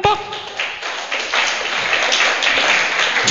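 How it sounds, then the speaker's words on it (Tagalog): Applause from a church congregation during a sermon, a steady wash of many hands clapping that builds slightly and holds for a few seconds with some voices mixed in. "Palakpak!"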